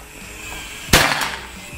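A single sharp report from a PCP air rifle in an Escobar series accuracy duel, one crisp snap followed by a short ringing tail in an otherwise quiet setting.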